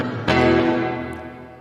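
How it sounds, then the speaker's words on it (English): A guitar chord with heavy reverb, struck once and ringing out in a long, smooth decaying wash that lingers and fades over nearly two seconds. "And now with the reverb applied."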